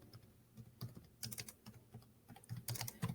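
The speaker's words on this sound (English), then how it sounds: "I'm going to type mine in." Fingers tap a library card barcode number into a computer keyboard, a quiet, close run of light irregular key clicks with brief pauses between bursts.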